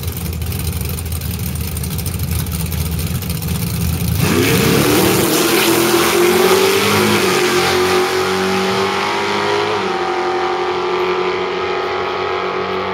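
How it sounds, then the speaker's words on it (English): A black Mustang accelerating hard in a race, its engine rising into a loud, sustained revving roar and then holding a steady high note as it pulls away, with a faint engine hum before the launch and no talk. "Goddamn black Mustang sound good over there too."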